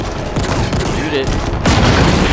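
Rapid gunfire rattles in the shooter game Halo Infinite, continuous close automatic bursts with a louder volley kicking in past the midpoint, mixed with game effects and faint voices.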